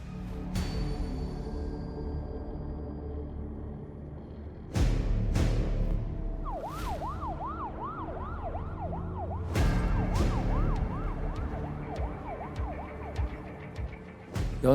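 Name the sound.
ambulance siren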